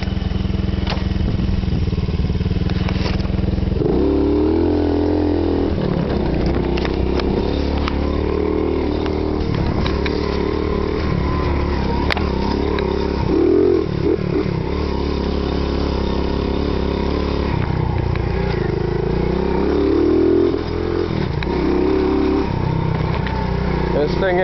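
A pit bike being ridden through mud without using the clutch, its small engine buzzing and revving up and down in repeated surges, loud and close throughout.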